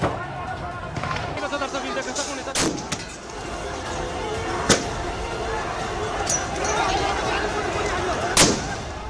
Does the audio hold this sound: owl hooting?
no